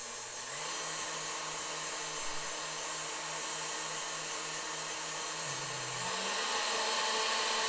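A KitchenAid 3B stand mixer running at high speed, a steady loud motor whine with a constant hum that shifts pitch slightly near the end, close and alone with no talking.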